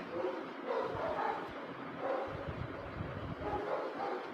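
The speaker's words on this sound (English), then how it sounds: "The barking noises are getting louder." Several dogs bark and yip in the distance, overlapping and fairly faint, with some rustling nearby.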